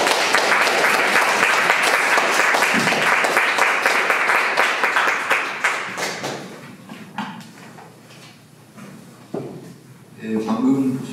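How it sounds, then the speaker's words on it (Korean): Audience applause fills a hall at an academic geography conference before a keynote lecture, loud and sustained clapping that thins out into scattered claps, with voices and shuffling near the end. "큰 박수 부탁드립니다."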